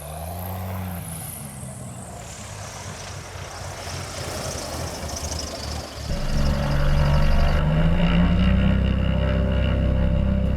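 A small propeller airplane comes in slowly to land at a hot, humid airstrip in Costa Rica, its engine droning steadily, then swelling louder and lower near the end as power is added.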